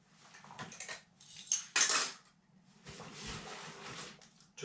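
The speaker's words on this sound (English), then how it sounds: "MSR Titan kettle and gas can." An MSR Titan titanium kettle and a gas canister are handled up close, giving brief metallic clanks and scrapes, one louder clatter near the middle, then softer rustling contact; no one speaks.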